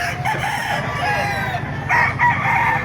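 A rooster crows loudly nearby amid the clucking of chickens, with background chatter and general outdoor bustle at a chicken market in Baliuag, Bulacan.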